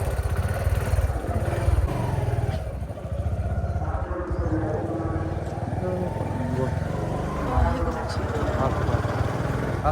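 A motorcycle being ridden, its engine droning with a steady low rumble and throb close by throughout, while voices talk over the running motor.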